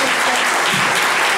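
An audience at a tango club claps for a tango dance couple, a dense, loud burst of continuous applause filling the moment without pause.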